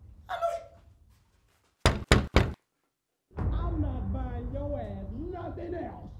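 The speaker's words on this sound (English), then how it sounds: "I know you heard me knock on this door and say trick or treat." Knocking on a house door by a trick-or-treater: three firm, evenly spaced knocks after a pause, preceded by a brief voice and followed by someone talking loudly.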